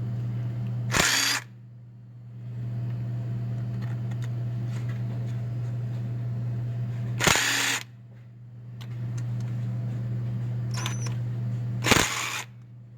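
Power driver spinning out bolts on a GM alternator, three loud bursts of whirring a few seconds apart with a steady hum between them, close up, no talking.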